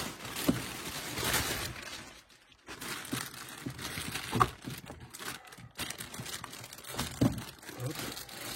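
Plastic packaging crinkles and rustles up close while an Amewi Rock Scale 22150 RC car with an ABS body is unboxed, in irregular bursts of handling with short pauses between them.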